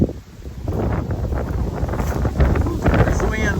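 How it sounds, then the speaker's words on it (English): Wind gusting outdoors during tree trimming, a rough broadband rushing that buffets the microphone steadily throughout, close and fairly loud. "There's the wind."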